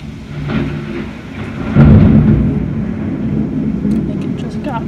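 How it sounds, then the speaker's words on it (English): A bad thunderstorm at Myrtle Beach: a loud, continuous roar of wind and rain with a heavy rumble swelling midway, while indistinct voices mix into the noise. "Yeah, this is a bad storm."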